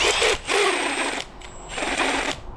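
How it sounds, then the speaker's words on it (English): A Milwaukee impact driver with worn bearings whines and rattles in two sustained bursts separated by a brief pause, loud and close with a harsh, grinding high-pitched tone. "my favourite tool, I've said it before, my little Milwaukee Impact. The bearings have gone in it again."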